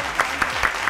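Studio audience of a Pakistani entertainment talk show applauding to welcome a guest, a short burst of clapping with a few sharper peaks, moderately loud, no talk.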